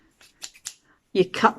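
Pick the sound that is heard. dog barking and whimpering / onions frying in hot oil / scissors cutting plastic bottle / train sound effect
scissors cutting plastic bottle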